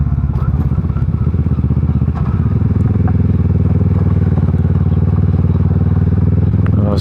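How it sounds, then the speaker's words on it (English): A motorcycle rides through a roadworks section, its engine droning loud and steady up close with occasional clatter and thumps from the rough surface. "Right, stick your bike into four-wheel drive, Ian."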